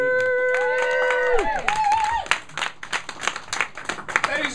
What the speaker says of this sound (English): Luke Capasso, now keep the applause going.